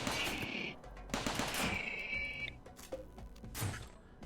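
Uranium turrets in RimWorld fire rapid bursts of gunfire, quiet and choppy, with several short volleys spread across the scene.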